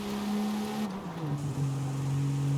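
Straight-six car engine pulling hard as it accelerates, a steady droning tone that dips briefly as it shifts and then settles lower, heard close and fairly loud without talk.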